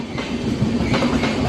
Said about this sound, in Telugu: టాటానగర్ నుంచి ఎస్ఎంఈటీ బెంగళూరు అయితే వెళ్తుందండి ట్రైన్